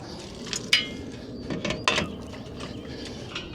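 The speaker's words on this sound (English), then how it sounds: "I'm gonna take the ramp and move it to the other side" The ramp of an OutfitR foldable two-ebike hitch rack is shifted across, making a few metallic clicks and clanks with light sliding scrapes, close by and fairly quiet with no speech.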